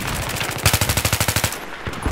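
Battlefield 3 automatic gunfire on the Epicenter map: a rapid, evenly spaced burst of about a dozen loud, close shots lasting roughly a second, with game ambience before and after.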